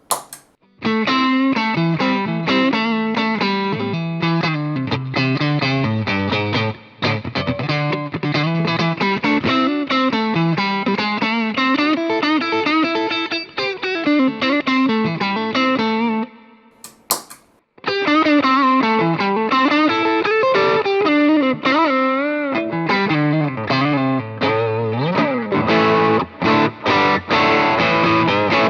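Distorted electric guitar through a Tank Zentro overdrive pedal playing chords and riffs continuously, thick and gritty with strong mids, with a brief pause midway before the crunchy tone resumes.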